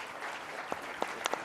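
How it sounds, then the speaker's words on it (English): An audience at a hemispheric security conference applauds a panel, a steady wash of clapping from a modest crowd with a few sharper claps standing out near the end, no speech. "if you give me a round of applause for the panel"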